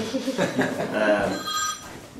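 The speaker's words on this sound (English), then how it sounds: "Oh, excuse me, I have a phone call." A telephone bell rings through a contemporary gallery setting during a performance piece, its ringing tones sounding at moderate volume under and between a person's speech.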